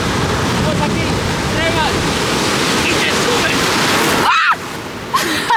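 Ocean surf while surfing: a loud, constant roar of waves and rushing water with heavy wind buffeting the microphone, briefly broken near the end by a splash and then a short gap.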